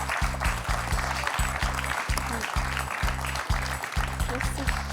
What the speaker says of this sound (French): On peut applaudir Christelle.